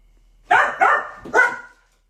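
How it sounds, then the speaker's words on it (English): A dog barks three times in quick succession, close and loud, reacting to cars passing by outside during an Instagram live stream. "sometimes there's cars that pass by and Laurie just barks at me"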